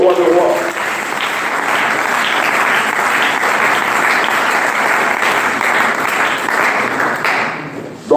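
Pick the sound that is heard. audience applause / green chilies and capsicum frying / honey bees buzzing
audience applause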